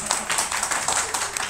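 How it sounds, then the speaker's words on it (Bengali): A ninth-grade class applauds the girls, a brief burst of dense, steady clapping from many hands filling the room. "মেয়েদের জন্য একটা হাততালি।"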